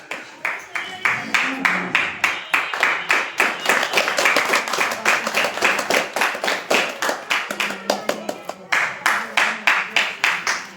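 Ceremony audience claps in loud, rhythmic unison, sharp evenly spaced claps repeating for over ten seconds, with a few brief uneven stretches and faint murmuring underneath.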